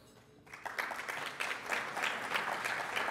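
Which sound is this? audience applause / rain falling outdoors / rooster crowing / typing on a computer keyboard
audience applause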